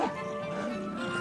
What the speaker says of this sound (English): I'm getting so annoyed at this dog.